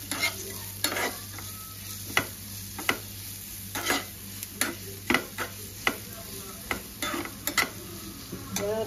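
Pasta chilli being stirred in a hot pan, with repeated spatula scrapes and taps over a steady sizzle, close and fairly loud, with no talking.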